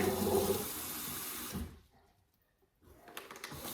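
Water runs and splashes loudly into a bowl for about a second and a half, stops, then a quieter trickle resumes briefly.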